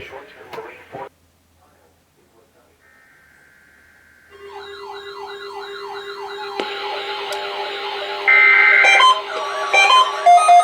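A NOAA weather radio warning alarm test sounds after a brief spoken voice: first a steady tone, then loud warbling siren-like alert tones that layer and build until the end.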